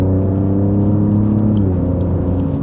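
Steady turbo V6 engine drone of an Alfa Romeo Giulia Quadrifoglio, low and rumbling with a smooth whir, held at a constant pitch close by.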